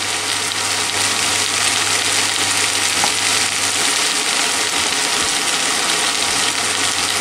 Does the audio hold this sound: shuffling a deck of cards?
no